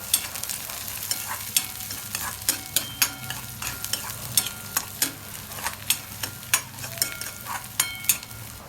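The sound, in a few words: onion and green chillies frying in pan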